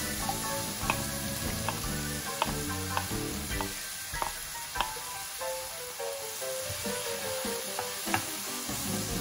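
Chorizo and ham sizzle steadily in a pan while being stirred, with a continuous frying hiss punctuated by small clicks and scrapes of the utensil against the pan, close and alone.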